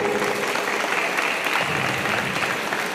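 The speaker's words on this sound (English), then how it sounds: "Please help me to give a round of applause to" Audience applause at the opening of a karate championship in Singapore, greeting the JKA Singapore team: a continuous, even roar of many hands clapping in a large hall, sustained without a break.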